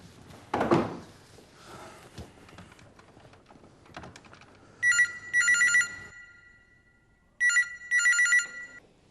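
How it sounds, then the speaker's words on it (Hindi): A telephone rings in two double-burst trills, electronic and clear, after a stretch of keyboard typing and desk knocks, with no one speaking. "अवनी, विधि को फोन करो, कंफर्म करो इस बात को"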